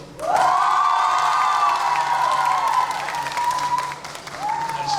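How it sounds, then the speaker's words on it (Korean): Crowd of residents at a Sejong city town-hall meeting applauding and cheering loudly, a sustained burst of clapping with shouts and whoops that eases slightly then swells again near the end. "우리 주민 여러분께서 이렇게 박수를 쳐주시고 응원해 주시니까 감사합니다"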